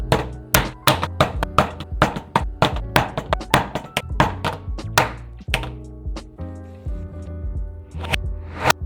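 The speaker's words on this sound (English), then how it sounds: "I dropped the flashlight 50 times from a height of 5 feet." A tactical flashlight is dropped again and again from about five feet onto the ground, giving a rapid run of sharp, close knocks and thuds that thin out to a few scattered hits near the end.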